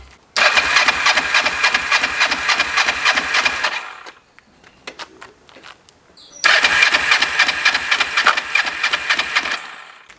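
A Kawasaki GPZ500S motorcycle engine cranks on the starter in two long, loud bursts of rapid rhythmic churning, separated by a few seconds of quiet with small clicks, without catching.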